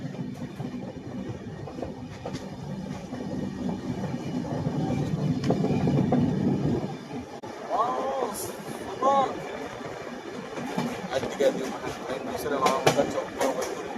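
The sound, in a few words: passenger train running on rails, clickety-clack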